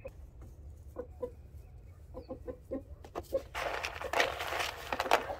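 Chickens clucking inside a henhouse, a run of short, close clucks that thickens into a busier, noisier flurry of fowl calls toward the end.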